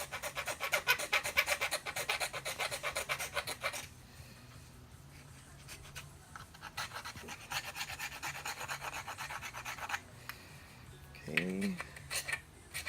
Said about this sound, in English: Then we'll be sanding it down.